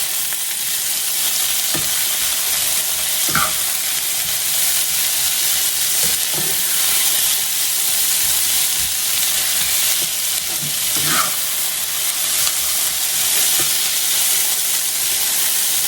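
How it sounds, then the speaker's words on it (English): Onions and green peppers fry loudly with breakfast potatoes in a hot pan, giving a dense, constant sizzle close by. A few scattered scraping stirs come through it, and no one talks. "we're putting all of our onions and green peppers in. Give it a stir with those."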